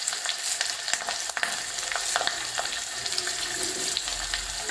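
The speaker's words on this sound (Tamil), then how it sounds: "இதுலையும் போட்டு வறுத்து அரைக்கிறதுக்கு மிளகாய் போட்டு" Chillies roasting in a pan, with a dense, crackling sizzle and short scraping stir strokes close by, running steadily throughout with no voices.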